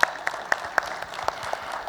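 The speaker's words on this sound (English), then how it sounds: "A round of applause, louder please, one more time." A conference audience at a cybersecurity fireside chat gives sparse, scattered claps, a handful of sharp hand strikes spaced about a quarter second apart over a low room hum, fairly faint and without talking.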